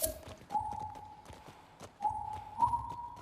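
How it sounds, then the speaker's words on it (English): Steady hoof clip-clops of a horse on the move in the video game The Last of Us Part II, with a sustained tonal hum running beneath and a brief whinny-like accent near the end. "We're getting on our horse, as you can hear."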